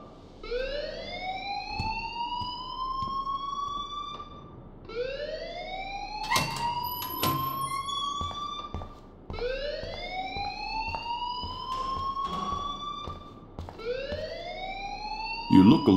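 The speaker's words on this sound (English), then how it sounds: "please turn off that alarm since that's your job" Fire alarm ringing in the video game Life is Strange, a repeating rising siren-like wail in four long cycles, loud and steady, with brief thuds and clatter between cycles.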